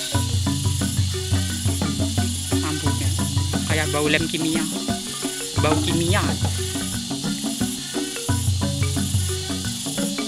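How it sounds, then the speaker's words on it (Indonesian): Cicadas buzz loudly and continuously in mountains near Lasem, Rembang, with a dense, shrill drone that never lets up. Close voices talk over the insects throughout. "Ini suara tenggeret, guys. Suara tenggeret ini pertanda musim pancaroba ini."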